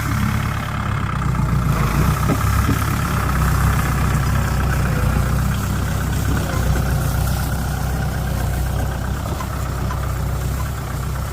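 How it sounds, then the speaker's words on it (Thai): A tractor engine idles steadily at close range, a continuous low rumble with a faint knocking pulse holding even in level for the whole stretch, with no talk over it. "สบายเลยรถไถ"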